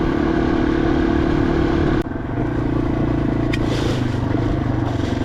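A Yamaha TW200 motorcycle rolls along a half-gravel abandoned railroad rail trail on the prairie, its steady engine drone loud and close with tyre crunch and clatter, one sharp knock partway through.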